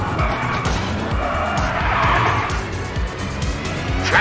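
Skoda Fabia R5 rally car in WRC 8 braking hard and skidding into an acute hairpin on the Monte Carlo stage: a loud, continuous engine roar with sustained gravelly tire scrub and squeal throughout, close and steady.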